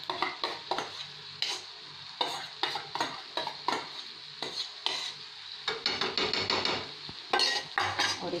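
Mashed eggplant bharta is stirred in a pan, with repeated scraping strokes of a spoon in an uneven rhythm over a faint sizzle, close and alone.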